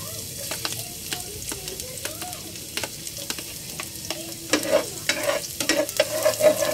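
Garlic and onion sauté in hot cooking oil for a home-style chicken tinola, giving a steady close sizzle with scattered stirring clinks and scrapes that grow louder and busier toward the end.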